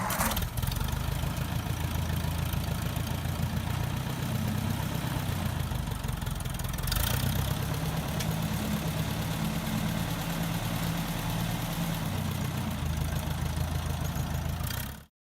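A 1953 Ford NAA Golden Jubilee tractor engine runs at a steady, loud idle with a low, continuous rumble and a brief surge partway through, then cuts off abruptly at the end.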